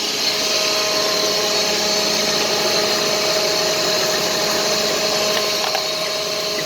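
A Sundstrand Engelberg machine runs at 3,600 RPM, giving a loud, steady mechanical whine and hum with constant tones and no change in speed.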